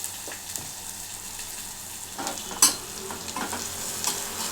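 Onions frying in oil in a pan give a soft, low sizzle with gentle stirring scrapes and one sharper clink near the middle, and nobody speaks.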